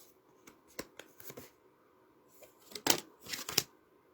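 Tarot cards shuffled in a few quick bursts, papery riffles and soft taps spaced across a few seconds with quiet gaps between, close and fairly light.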